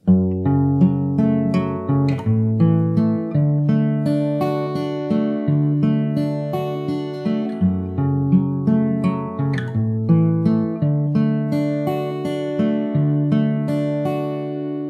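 An outro on fingerstyle guitar, a flowing pattern of picked bass and treble notes repeating evenly for about fifteen seconds, close-miked and alone without talk.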